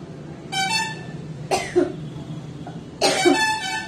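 A woman coughing with a heavy throat, a few separate, sharp coughs spaced about a second apart, close and fairly loud, with brief high tonal bursts between them.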